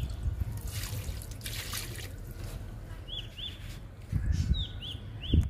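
Liquid fertilizer poured onto garden plants, heard as trickling and dripping water that is faint and close, with soft splashes and a few bird chirps in the background, and no talking.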